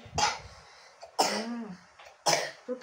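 Three separate coughs, sharp and close, spaced about a second apart, the middle one trailing into a rasping throaty tail.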